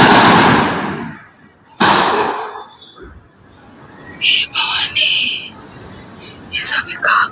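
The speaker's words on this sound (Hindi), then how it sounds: "गोली चल रहा है।" Two loud, sharp gunshot-like bangs ring out close by, a couple of seconds apart, during unrest involving Bihar police; agitated voices and faint chirps follow.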